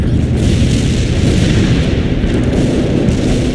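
Artillery fire support in a war video game pounds continuously as a dense, heavy rumble of overlapping explosions, loud and steady throughout with no talking.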